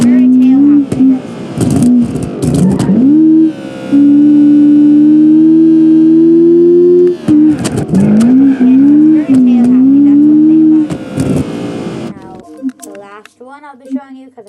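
A Toyota AE86 racing car in BeamNG.Drive screams at high revs, the engine note sustained and rising through gear changes with brief dips between shifts, loud and close throughout.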